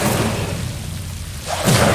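A fire spell in Hogwarts Legacy goes off in two loud whooshing bursts, a roaring flare at the start and another near the end, with a muffled rumble in between.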